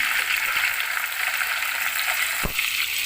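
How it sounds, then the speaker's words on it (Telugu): Onions and green chilies fry in a pan over a medium flame, giving a steady, close sizzling hiss throughout with one brief soft knock near the end and no talking. "ఉల్లిపాయలు పచ్చిమిర్చి వేసుకొని"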